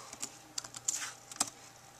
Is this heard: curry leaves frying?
no